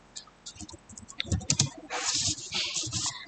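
Fast typing on a computer keyboard while working in a Jupyter notebook, light close clicks in short clusters with a denser run of keystrokes near the end, quiet and alone.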